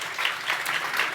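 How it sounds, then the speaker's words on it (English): Audience applause for panelists at a young women voters event, a continuous burst of clapping throughout the short moment. "Let's give our panelists a round of applause."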